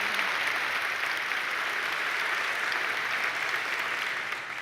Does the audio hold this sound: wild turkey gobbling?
no